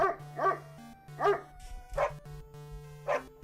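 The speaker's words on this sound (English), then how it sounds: "Can we do something about the damn dog in the studio?" Dog barking in a studio, five or six sharp barks spaced about half a second apart over a steady low hum, close and fairly loud, with no talk.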